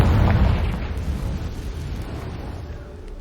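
A Confringo spell explosion in the Hogwarts Legacy video game opens with a loud rumbling boom that rolls into a broad, slowly fading crackling roar and dense low-end noise.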